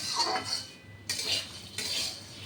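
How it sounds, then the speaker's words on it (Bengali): Puffed rice stirred while dry-frying in a pan, with repeated scraping and rattling strokes of a utensil against the pan in a few bursts separated by brief pauses, close and moderately quiet. "এইভাবে নাড়াচাড়া করে ভাজতে ভাজতে দেখবেন মুড়িটা মুচমুচে হয়ে যাবে"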